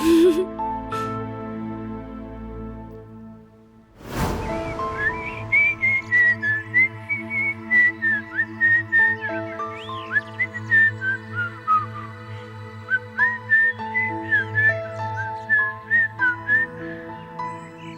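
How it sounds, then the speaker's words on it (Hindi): A person whistles a bright, wavering melody in a long run of short phrases after a sharp noise, clear and close with a faint low hum beneath. "यानी पहली बार तुम्हें सीटी बजाते देखा है।"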